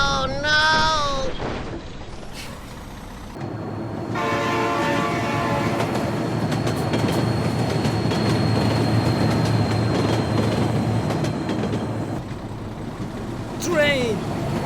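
A train rolls past close by in a video game, with a horn blast at the start and a steady loud rumble and wheel clatter that holds for about ten seconds before fading.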